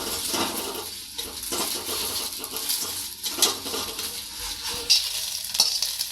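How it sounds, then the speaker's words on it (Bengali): Egg scrambling in a pan for a whole-soybean noodle dish, with a steady close sizzle and repeated scraping and stirring of a utensil against the pan, and no voices. "এখন ডিমটাকে ঝুরি করে নেব, যেটাকে স্ক্রাম্বল বলে"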